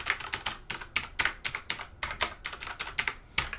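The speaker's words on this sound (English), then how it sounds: "I shall set it down and just take a feel of the keys." Keys on a Rosewill illuminated mechanical gaming keyboard with Cherry MX Brown switches pressed in a steady run of close, crisp clacks, about a dozen strokes in quick uneven succession with no talking.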